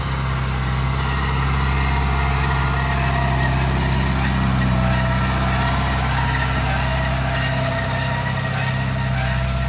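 A tractor works the prepared vaquejada arena track in Aracati, its engine a steady, loud low drone close by, with no talking.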